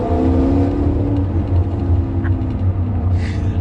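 A Maserati fitted with a Ferrari V8 engine runs with a deep, steady rumble and throaty growl, the engine note swelling slightly as it revs, heard close and loud.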